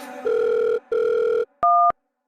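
A phone ringback tone sounds in two long beeps, followed by a short higher double tone, heard clearly with no one talking.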